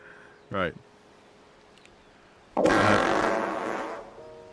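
Fart noise sound effects played on a live stream, a short rippling blat early on, then a longer, louder, buzzy raspberry that fades out.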